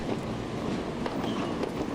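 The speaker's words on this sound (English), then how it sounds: "The tram, though, is not going as fast as it could be because it has to negotiate over a very rough track." A tram grinds and rattles along very rough track, a continuous close, dense rumble with scattered clanks and no voices.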